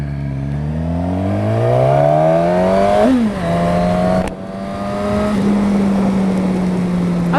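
A Suzuki Katana motorcycle accelerates hard, its engine note climbing steeply, then dipping at two quick gear shifts before settling into a strong steady roar, loud and close with wind rush and no talk.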